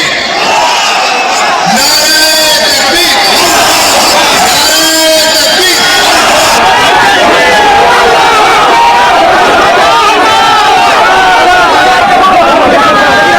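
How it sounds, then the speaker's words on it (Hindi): Large crowd gathered in Bengal for a Babri Masjid foundation-laying event, a loud continuous roar of massed voices with shouts and cheers rising and falling, dense and close throughout. "बाबरी बनाने के लिए लाखों की भीड़ पहुंच गई थी बाबरी की नींव रखने के लिए।"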